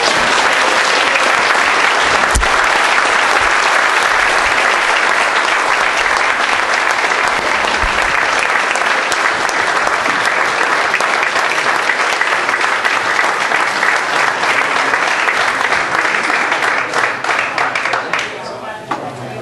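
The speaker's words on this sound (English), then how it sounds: "Now we can clap." Loud, sustained applause from an audience for a congressional candidate, dense steady clapping filling the room for many seconds before tapering off near the end.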